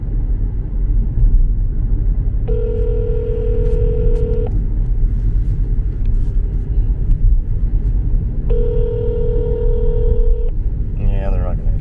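A telephone ringback tone plays during a call to a court's phone line, heard as two long steady rings separated by a pause, clear over a constant low rumbling background.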